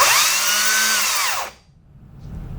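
A Makita UC012G 40V XGT cordless chainsaw starting up, a loud close electric whine with a rising pitch that runs about one and a half seconds, then cuts off abruptly into quiet.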